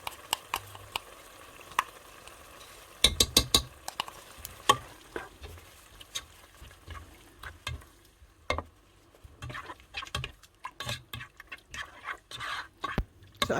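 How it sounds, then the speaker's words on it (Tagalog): A spoon stirs sour cream into simmering beef stroganoff sauce, with irregular scraping and clinking against the pot over a faint sizzle and wet bubbling. "halu-haluin mo lang hanggang sa mag-blend yung sour cream sa sauce"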